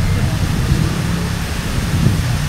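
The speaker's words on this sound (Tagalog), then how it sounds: "Super lakas po ng ulan dito sa Katipunan mga kapuso." Very heavy rain pouring down in Katipunan during an afternoon storm, a dense, loud, steady wash of noise with no break.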